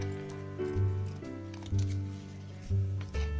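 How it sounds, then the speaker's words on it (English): Scissors roughly trimming excess material make several crisp snipping cuts at a steady pace, fairly close and quiet, over a low steady background hum. "I'm going to take my scissors and then I want to trim the excess that's on there."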